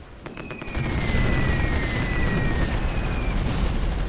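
Anti-aircraft guns firing in the war strategy game Supreme Ruler Ultimate: a steady, dense roar of rumbling blasts and booms that swells after a quieter start and holds at a loud level, with a thin whistling tone running above.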